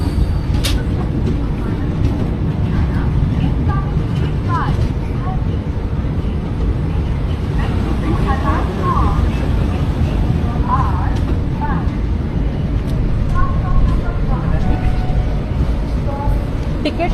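Ambience at Chandigarh railway station: a continuous low rumble of trains and crowd, with voices chattering throughout.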